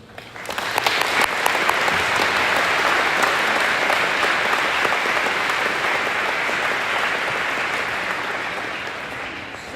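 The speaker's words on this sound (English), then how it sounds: "Let's give a big round of applause for all our recognized veterans and their families who are among us today." A crowd at a high school Veterans Day celebration gives sustained, loud applause to recognized veterans and their families, steady clapping building quickly and tapering slightly toward the end.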